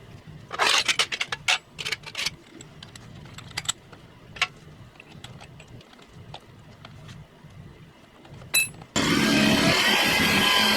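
Scattered clicks and scrapes of handling, then a loud, steady drill whirs continuously for the final couple of seconds while drilling out a stuck part of a trumpet.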